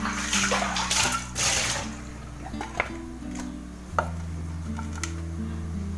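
Clay pots are scrubbed with ash and water by hand, giving close, wet gritty rubbing and sloshing with a few light knocks of pottery.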